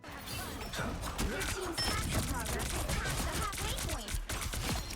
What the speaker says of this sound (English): His primary fire, the Crescent Dart, aka random bullshit go, is a projectile which chains off of enemies.